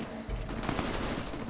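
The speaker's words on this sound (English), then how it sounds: "Oh no, there's the gunfire again. They're still fighting." Gunfire from a firefight in the video game Fallout rattles as a dense burst of distant shots over a constant noisy bed, with no voices.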